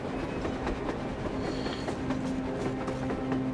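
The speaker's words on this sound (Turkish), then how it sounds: "Tren var." A train rumbles past with a steady, rolling clatter in the post-apocalyptic video game Metro Exodus, heard alone at moderate level.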